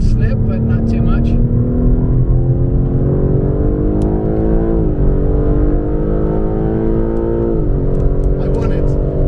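A BMW M3 Competition is driven hard on a track, its engine roaring loudly and continuously from inside the cabin, holding a high strained pitch with a couple of brief dips between gears under wind and road noise.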